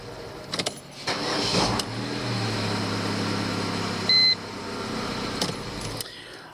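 Mercedes A-Class W169 on a newly fitted starter: a brief crank, then the engine catches and settles into a steady idle, with a short beep partway through and no talk.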